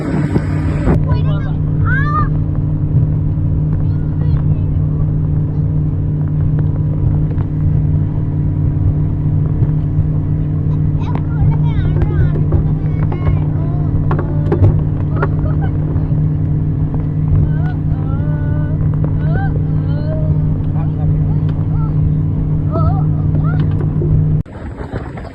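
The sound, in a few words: small private motorboat ride in the Maldives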